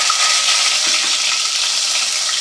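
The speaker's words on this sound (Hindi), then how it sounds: "अब हम इसमें प्याज डाल देंगे" Onions frying in hot oil in a pan for macaroni: a loud, steady, close hiss and crackle that runs without a break, with no voices.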